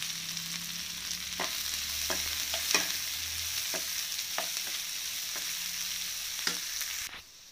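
Thinly sliced onions fry and sizzle in a pan for Rajasthani onion kachori, a steady close hiss broken by several sharp scrapes and clicks of stirring, with no talking.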